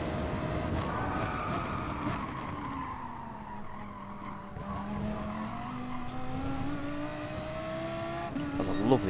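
An Audi race car engine drones and shifts pitch through a lap of La Sarthe in Gran Turismo Sport during an FIA championship race. It is loud and continuous, with tires squealing, and it swells toward the end.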